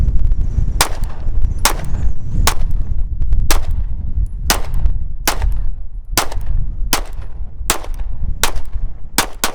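Rapid series of about a dozen sharp pistol shots from a P365 XL fitted with an all-metal Omega frame, fired at an outdoor range, loud and close, evenly spaced with a steady background rumble between reports.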